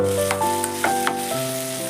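A garlic-fried snack frying in a pan makes a continuous, close sizzle with a few light clicks scattered through it, steady and alone for about two seconds.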